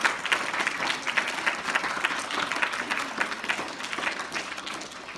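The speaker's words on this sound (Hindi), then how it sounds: "इनका भी जोरदार तालियों के साथ स्वागत कीजिए" An audience at a school event applauds to welcome guests, steady dense clapping from many hands throughout, fairly close and sustained.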